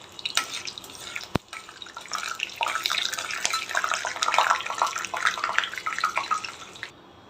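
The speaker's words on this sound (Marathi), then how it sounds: "आता पोहे धुवून घेतले" Flattened rice (poha) is washed in water for kanda poha, with close sloshing, trickling and dripping water that swells and fades over several seconds before stopping.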